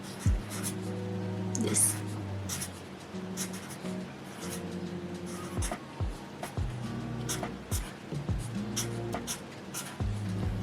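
Pen scratching out faux calligraphy in cursive on paper, soft close strokes in short bursts, with a voice talking quietly between and over them.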